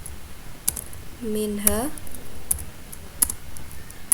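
Keys clatter in scattered clicks as Linux terminal commands are typed on a computer keyboard in Ubuntu, with a brief voiced sound partway through.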